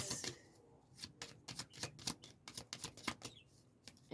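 Tarot cards are riffled and shuffled in a quick series of crisp flutters and taps, close and fairly quiet.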